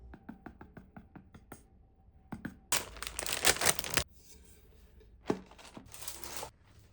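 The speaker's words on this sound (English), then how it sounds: "Now let's remove the foil and get the whole thing crispy." Aluminium foil is peeled off a pot of Azerbaijani shah pilov, a loud close crinkling burst lasting over a second, then a second shorter rustle, after a few light taps.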